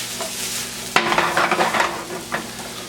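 Onions frying in a pan for mote pillo, a hominy dish, with a low sizzle that jumps louder about a second in as a spoon stirs and scrapes them, giving close, uneven bursts of crackle and shuffling.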